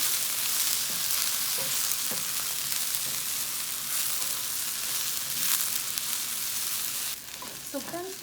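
Okra frying in a pan, a continuous bright hiss and crackle of oil, steady and close, with a few soft utensil clicks toward the end.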